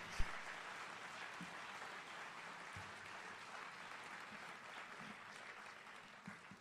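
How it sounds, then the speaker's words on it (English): An audience at a book event applauds in a faint, distant wash of clapping that stays steady from start to finish, with a few louder thumps near the microphone. "If y'all don't applaud, I'm going to applaud"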